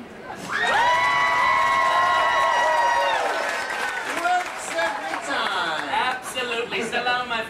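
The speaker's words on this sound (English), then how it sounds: "you should scream and shout and clap your hands" A crowd of children and adults at Disneyland's Aladdin's Oasis show screams, shouts and cheers loudly, with a long sustained high-pitched yell fading into mixed shouting and scattered clapping.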